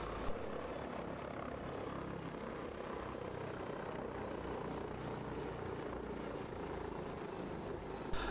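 A Lynx AH7 helicopter hovers in the FlightGear flight simulator, a steady dense rotor and engine roar that holds constant throughout with no talk.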